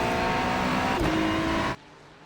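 GT3 race car in a video game at the Charlotte Roval, engine stuck in fourth gear, holding a steady strained drone that cuts off abruptly near the end.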